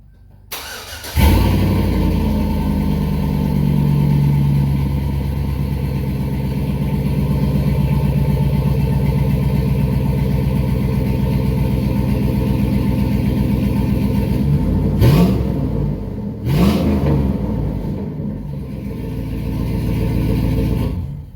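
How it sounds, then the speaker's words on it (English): A Chevy pickup truck with a Speed Engineering 3.5-inch single exhaust idles steadily with a deep, rumbling tone, then revs briefly a couple of times before settling back to idle. "The exhaust sounds really good. I love the way it sounds right now"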